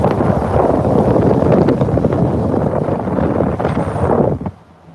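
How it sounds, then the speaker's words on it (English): Heavy wind buffeting a microphone from a moving car on the way to the bank, a loud continuous roar that drops away abruptly near the end. "It's going to get windy for 1 second."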